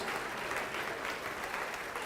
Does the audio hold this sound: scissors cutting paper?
no